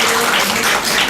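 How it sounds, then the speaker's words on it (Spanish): An audience at a diabetes information seminar applauds to welcome a doctor, a brief dense burst of clapping heard up close. "Recibimos pues con un fuerte aplauso a la doctora,"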